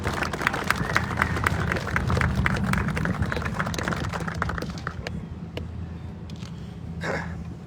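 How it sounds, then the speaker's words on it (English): Applause from the crowd at a groundbreaking ceremony for a new fire station in Baxter Springs, a burst of clapping that runs for several seconds before tapering off, with some voices mixed in. "Round of applause for these guys."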